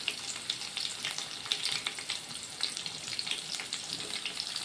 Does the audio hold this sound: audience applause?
no